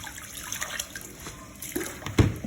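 Sweet potato tops rinsed under running tap water at a sink, a close, uneven splashing of water with a louder gush near the end.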